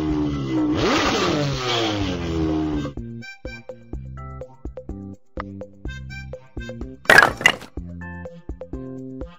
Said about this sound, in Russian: Водный мотоцикл.